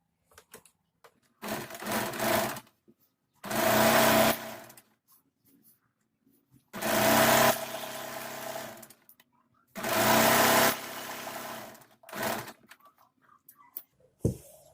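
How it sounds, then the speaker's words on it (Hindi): A sewing machine stitches a double seam on sharara fabric in four steady bursts of close, whirring running, separated by short quiet pauses, with a few small handling clicks at the end. "अब हम इसमें डबल सिलाई लगा लेंगे।"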